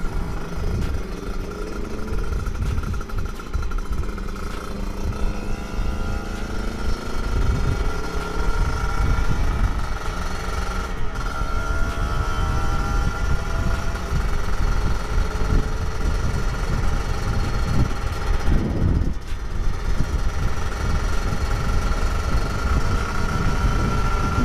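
A two-stroke Kawasaki Ninja 150cc motorcycle engine runs loud and close, a continuous raspy drone with slight rises and falls in revs throughout, no voices over it.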